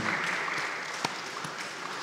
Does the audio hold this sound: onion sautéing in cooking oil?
no